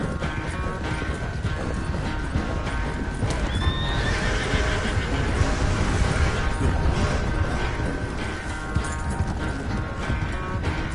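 In the video game Red Dead Redemption 2, horse hooves clip-clop steadily while a horse neighs and whinnies, with rattling mechanical noises in a busy, continuous mix.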